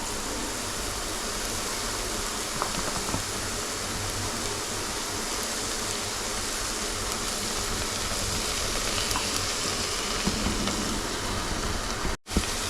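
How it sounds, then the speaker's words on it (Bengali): Onion and chilli sizzling in a frying pan give a steady, dense hiss that runs unbroken at even loudness, close and alone, with a brief dropout near the end. "পেঁয়াজ আর লঙ্কাটা তো হালকা ফ্রাইও হয়ে গেছে।"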